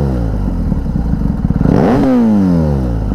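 A BMW R 1250 GSA motorcycle engine pulses at a low idle, then gets a sharp throttle blip that revs up and falls away, heard up close and loud.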